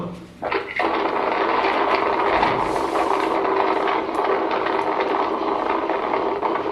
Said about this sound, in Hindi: कूलर पंखे की आवाज मुझे सुनाने से कुछ नहीं मिलेगा